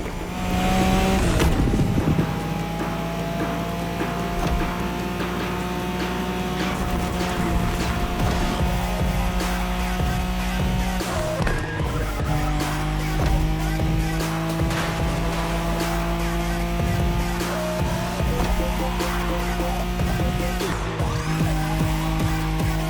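Nissan Skyline race car in The Crew Motorfest, engine droning at steady high revs through long gear pulls, with brief dips at shifts around two and eleven seconds, loud and continuous with faint tire noise.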